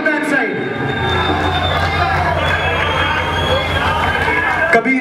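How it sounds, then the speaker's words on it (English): Audience applause and cheering at a live band performance, loud, close crowd noise with whoops, shouts and clapping blended into a continuous roar, with voices in the mix throughout. "A huge round of applause for the audience"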